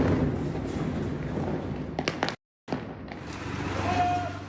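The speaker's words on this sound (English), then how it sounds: "A cacophony of explosions, echoing hour after hour." Explosions echo over a street in Gaza City, a string of booming thuds and cracks with rolling reverberation, broken by a brief cut to silence before the din resumes.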